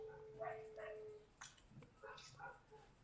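A dog whimpers and gives short yips and barks in the background, fairly faint, mixed with a person's voice.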